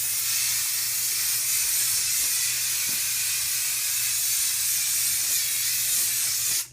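Aerosol spray can hissing steadily onto a polycro sheet, one long continuous loud spray lasting several seconds before cutting off abruptly, with no talking.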